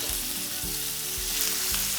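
Beef frying in hot vegetable oil in a pan, giving a dense, steady sizzle with soft crackling and occasional low thumps, close and loud with no talk.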